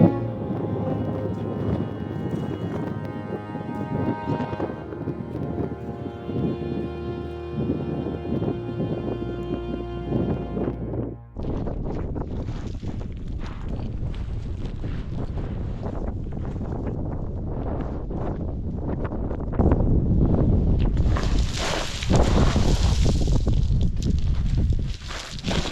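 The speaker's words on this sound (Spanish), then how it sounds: "Mucho viento." Strong wind blows at a mountain bivouac, buffeting the microphone in heavy, gusty roars that rise and fall. A sustained tonal hum plays early on, and the gusts grow louder and harsher toward the end.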